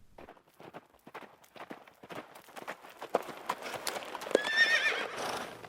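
A horse-drawn butcher's wagon on a woodland road out of Sherwood toward Nottingham: clip-clopping hooves grow steadily louder as it approaches, with a horse's whinny near the end and no talk.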